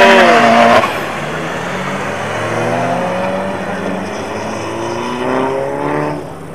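Race car at a quarter-mile drag race on an airfield strip in Piła, its engine revving loud and close at the start, then a sustained roaring drone with turbo hiss rising and falling across the run.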